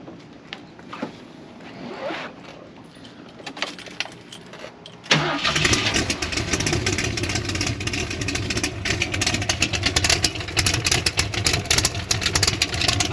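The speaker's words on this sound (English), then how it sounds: "It really just sounds like a big nasty V8 and drives around town really nice." A Jeep V8 with side pipes cranks with a whirring starter, then fires into a loud, rumbling, lopey idle that carries on close by after some fumbling noises.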